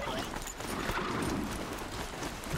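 Horse hooves in the video game Horizon Zero Dawn clop in a quick, steady gallop while riding, at moderate loudness under a layer of ambient game noise.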